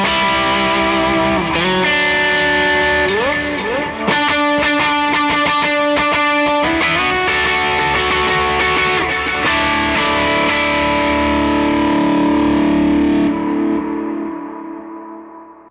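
Electric guitar through an SVDS boost pedal with eighth-note delay echoes and light reverb tails, chords ringing and smearing together, loud and sustained before fading out at the end.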